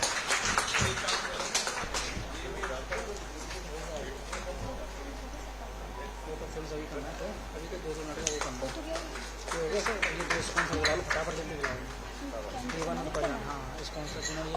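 An audience claps at a police bravery award ceremony in Uttar Pradesh, a fairly faint, scattered applause that thickens in bursts at the start and again midway, with a voice speaking over parts of it.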